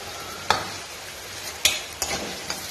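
Carrots and beans stir-fried in a pan, giving a steady close sizzle broken by three or four sharp spatula scrapes against the metal.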